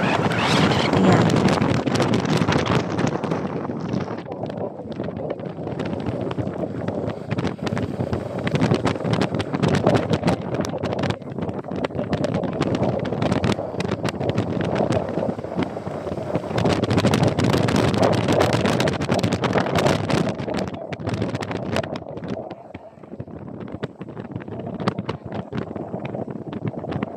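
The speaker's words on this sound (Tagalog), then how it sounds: "malakas ang hangin dun, guys" Strong wind buffets the microphone in heavy, roaring gusts throughout, rising and falling without letup.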